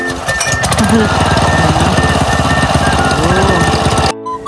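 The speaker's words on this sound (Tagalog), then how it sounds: "pinandar niya kaagad yung makina" A farm cultivator engine runs in an onion field, giving a loud, steady mechanical chug with a rapid knocking rhythm that continues throughout before cutting off abruptly near the end, with some voice activity mixed in.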